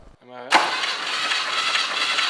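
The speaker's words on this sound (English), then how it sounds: "now the starter motor works and the engine moves freely" A starter motor cranks a vintage Volvo engine that has not run in over 15 years: a brief rising whine, then a loud, steady, broadband grinding rush.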